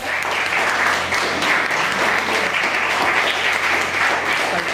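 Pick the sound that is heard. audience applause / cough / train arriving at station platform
audience applause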